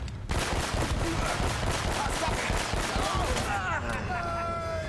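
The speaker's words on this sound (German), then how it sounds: "Ein Schuss mit der Schrot." A rapid burst of shotgun fire in the video game Uncharted, many sharp shots in quick succession, followed by ringing, warbling electronic game effects as the firing stops.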